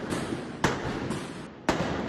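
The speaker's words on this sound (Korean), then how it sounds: "곳곳에서 총성이 끊이질 않습니다" Gunshots ring out in a residential district of Yangon at night after midnight. Three sharp distant cracks echo over a constant rumbling background, roughly a second apart.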